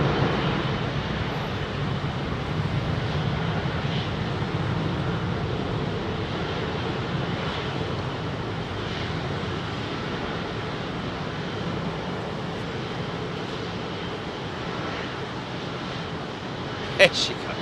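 An Airbus A380 climbs away from runway 27R at London Heathrow, a steady broad engine roar holding level throughout with wind buffeting the microphone and a brief sharp knock near the end.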